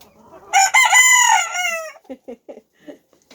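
An old Frizzle rooster crows once, close and loud, a long ringing call followed by a few short clucks, heard alone outdoors in frozen winter weather.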